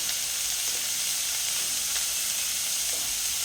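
Chopped beetroot sizzling steadily in a hot pan with salt, a continuous close frying hiss with no breaks and no talking.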